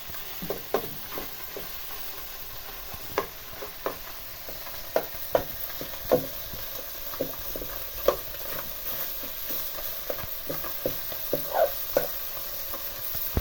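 Fish frying in oil in a pan, a steady close sizzle broken by frequent sharp pops and crackles spread irregularly throughout, with no voices.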